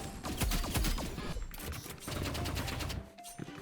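Rapid video game gunfire fills the scene, with dense bursts of shots running almost continuously before briefly thinning out near the end.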